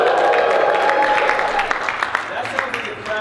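Conference audience at INBOUND 2016 cheering and applauding in a big hall, a dense wash of clapping and whoops holding steady for about three seconds before thinning slightly.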